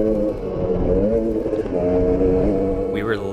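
A dirt bike engine drones steadily and loudly while riding at high altitude, a constant buzzing roar with slight rises in pitch throughout.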